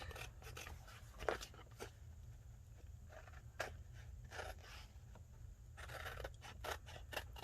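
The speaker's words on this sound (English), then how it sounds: "let's go ahead and cut these out" Scissors cutting out paper tags at a table, a series of close, crisp snips and rustles in irregular rhythm over a low background hum, fairly quiet.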